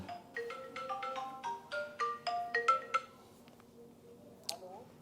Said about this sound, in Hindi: अरविंद केजरीवाल का फ़ोन था, रोज़ फ़ोन करता है,